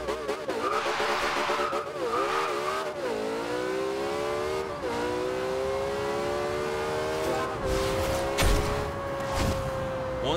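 A 1450 hp Porsche 918 in Forza Horizon 2 launches down a quarter-mile drag strip. The engine note climbs hard with tire squeal, and several gear shifts briefly drop the pitch before it rises again.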